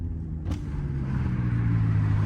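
A car drives along as its heavily tinted window lowers a little, a low steady road rumble suddenly joined by rushing wind noise that lingers after a brief click near the start.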